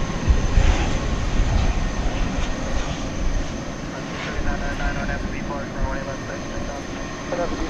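A jet airliner inbound from LAX approaches DFW Airport at night in wind, a steady broad engine roar filling the whole stretch at moderate level, with a voice talking over it.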